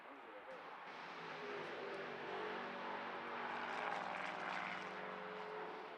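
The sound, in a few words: prototype race car engine revving low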